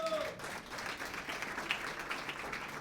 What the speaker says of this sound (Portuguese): Aplaude mesmo.